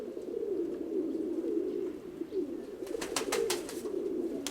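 Mykolaiv pigeons coo in a steady, low, throaty murmur close by, with several soft overlapping calls rolling on continuously and a brief burst of fluttering wing claps near the end.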